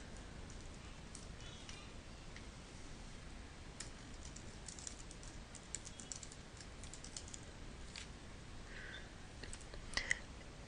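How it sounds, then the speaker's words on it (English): Someone types on a computer keyboard at a quiet desk, a faint, irregular patter of soft key clicks with a few sharper taps near the end. "Just type in that information."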